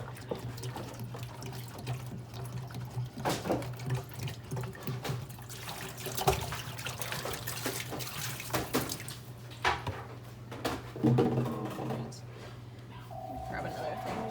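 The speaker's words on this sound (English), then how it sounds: "gonna pour the distilled water kind of just over the whole endoscope" Distilled water trickles and splashes as it is poured over the whole endoscope during cleaning, a steady running-water sound beneath a low hum, with a person talking over it.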